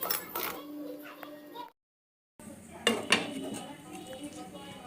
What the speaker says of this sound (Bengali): একটা কড়াইয়ে আমি কিছু লবণ গরম করে নিচ্ছি।